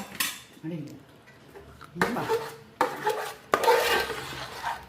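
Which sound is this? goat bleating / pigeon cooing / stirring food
stirring food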